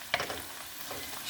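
Chopped onions and garlic fry in a pot, a soft steady sizzle with a few clinks and scrapes of stirring, close and fairly quiet with no talking.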